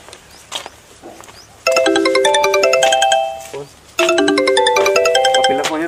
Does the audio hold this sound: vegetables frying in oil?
no